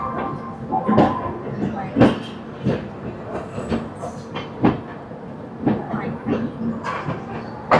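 A train arrives at Prayagraj Junction station with rhythmic clickety-clack wheel beats and rattling carriage noise, heard from inside the coach, with voices murmuring nearby.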